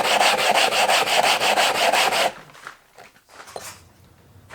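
Hand grinding of a 6-inch telescope mirror blank with 80 grit abrasive, a loud, steady rhythmic scraping rub for about two seconds, then fainter, broken strokes.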